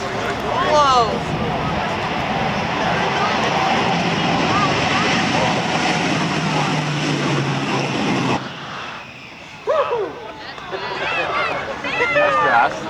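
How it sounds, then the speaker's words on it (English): Military jet roaring past on full afterburner at a military air show at Barnes Air National Guard Base, a loud sustained broadband roar that cuts off abruptly, with excited voices talking over and after it. "Here we go, full burner."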